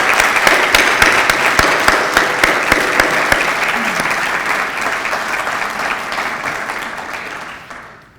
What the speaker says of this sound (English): a big round of applause for all 8 of these amazing people